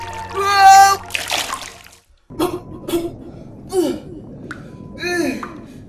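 A splash of someone diving into water with bubbling, followed by gasps and short bursts of voices, then more splashing and sputtering near the end.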